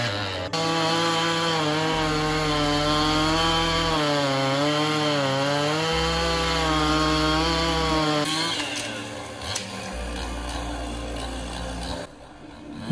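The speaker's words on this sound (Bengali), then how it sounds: "আরেকজন গাইড স মেশিন নিয়ে এসে গাছ কেটে ট্র্যাক ক্লিন করে দিলে" Chainsaw cutting through a fallen tree blocking a snowmobile trail, loud and close, its engine revving in bursts with a few pauses, no voices.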